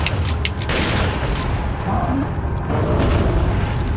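Bomb explosions during a fight against El Gigante in Resident Evil 4, heavy low booms and rumbling blasts that roll on continuously and loudly, with a few sharper bursts early on.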